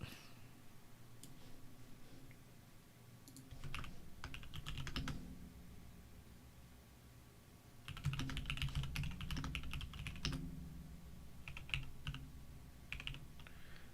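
Computer keyboard typing in bursts of rapid clicking with pauses between, close and fairly quiet over faint room hum, no talking.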